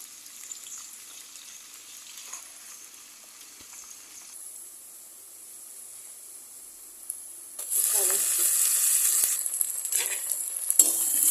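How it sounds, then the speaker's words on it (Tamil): Onions being sautéed in a pan while mutton liver fry is cooked, a quiet steady sizzle that swells abruptly into a louder, harsher frying hiss in the final seconds. "எடுத்துட்டு வெங்காயத்தை நல்லா வதக்கிக்கிடுவோம்"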